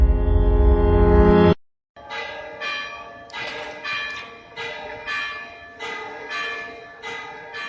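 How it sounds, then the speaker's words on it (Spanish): The Wamba, a thirteenth-century bell in the Gothic tower of Oviedo Cathedral, strikes steadily about every half second after a loud sustained tone cuts off. Each stroke rings out with resonant, overlapping partials. "Este es el sonido de la guamba, la campana en activo más antigua del mundo"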